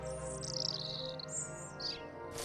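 A small bird chirping as it flies away, a series of high tweets over a steady tonal background, fairly faint.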